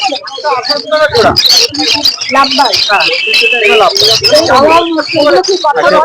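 Many birds chirp and tweet busily together at a pet market in Sreerampore, close and constant, while someone talks over the chatter.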